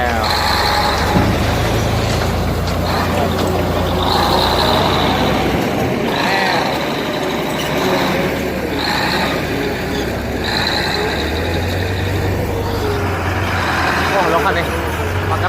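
A dirt truck rumbles at a school construction site, its heavy engine running steadily and close by with hissing bursts, while people talk over it throughout.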